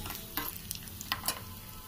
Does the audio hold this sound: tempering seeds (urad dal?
yes